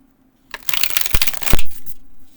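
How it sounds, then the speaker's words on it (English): A deck of bendy Tarot De Toro tarot cards is shuffled close up, a quick burst of riffling, flapping card noise lasting about two seconds after a moment of silence. "let's do some shuffling"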